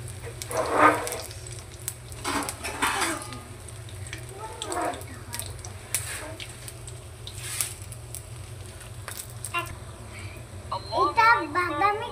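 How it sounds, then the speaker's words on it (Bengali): Food frying in hot oil until browned, a steady sizzle with soft patter and occasional stirring scrapes, while people talk intermittently nearby. "এটা বাদামি কালার করে ভেজে নিয়েছি"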